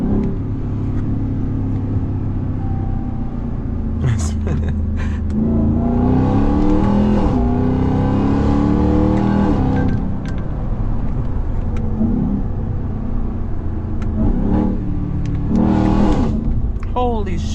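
Supercharged Ram TRX pickup truck heard from inside the cab while driving hard, a loud engine rising in revs with repeated gear shifts, a whining sweep and brief drops, with people talking over it.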